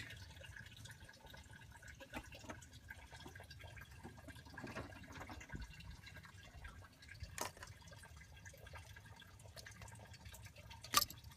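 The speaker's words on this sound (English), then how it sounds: "Draining a little bit of coolant out that upper hose." Coolant drains from the upper radiator hose of a 2000 Dodge 2500 with a 5.9L Cummins engine during water pump and thermostat work, a faint trickle and scattered drips in a quiet garage with a sharp tap near the end.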